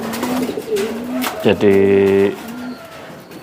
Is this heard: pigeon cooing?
yes